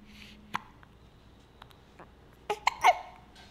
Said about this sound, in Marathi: किती उचकी येते रे तुला,